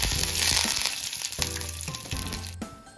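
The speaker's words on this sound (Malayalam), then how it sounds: "അപ്പൊ അതിൽ നിന്ന് കടുക് പൊട്ടിക്കണം." Mustard seeds, dried red chillies and curry leaves sizzle in hot coconut oil, a bright crackling hiss that surges in bursts, with sharp pops, then fades near the end, close up and alone.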